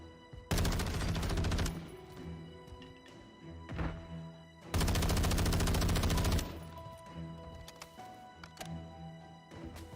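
Automatic gunfire in Warzone, a player spraying through smoke: two long, loud sustained bursts of rapid shots with a brief quieter gap between them and a softer tail afterward, no talk.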